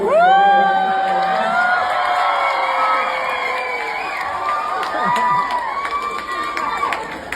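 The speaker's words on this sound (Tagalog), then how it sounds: "sigaw at tawa yung kanilang isinisigaw" A large crowd shouts, whoops and cheers at a political rally, loud and sustained from the outset with shrill voices rising and falling throughout, no single speaker standing out.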